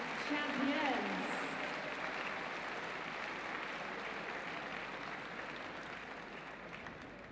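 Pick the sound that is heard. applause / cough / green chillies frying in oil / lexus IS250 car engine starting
applause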